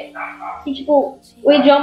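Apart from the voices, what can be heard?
dogs barking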